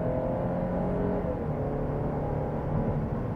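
Engine of a 2006 Cadillac CTS with the 2.8 petrol V6, running and revving in a steady, continuous drone that stays loud and close for the whole stretch, with no voices over it.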